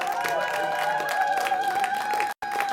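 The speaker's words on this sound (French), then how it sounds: "Acclamation, plus de bruit pour les plumettes." A live concert crowd at a show cheers and applauds for the band's female musicians, a dense, steady wash of clapping and shouting with a sustained tonal hum running underneath.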